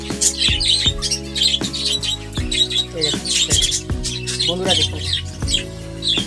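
Budgerigars in a breeding colony kept in winter, a busy chorus of sharp squawks and bright chirps close by, with someone speaking briefly over the birds.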